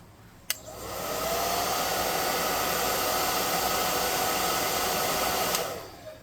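A hair dryer dries paint on a converted Heroclix Groot miniature figure. After a small click it whirs up into a loud, steady rushing blast for about five seconds, then winds down.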